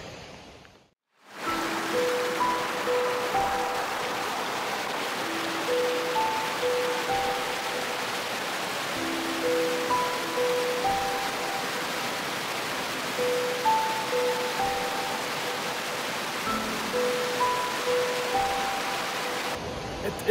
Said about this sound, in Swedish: Enormt vattenfall här uppe.